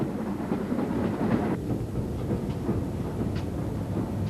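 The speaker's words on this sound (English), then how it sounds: "The rail journey gives an opportunity to experience a leisurely branch line ride of yesteryear" A heritage branch line train carries passengers on a leisurely ride toward Bridgnorth in Britain, its steady rumble and faint rail clatter filling the carriage continuously without talk.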